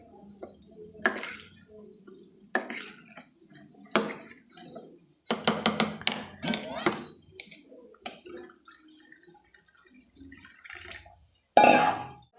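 Dal batter for mendu vada being mixed with hot water in a pot, heard as wet clinking and splashing strokes with scraping against metal, irregular bursts with quiet gaps between them, closing on one louder clatter.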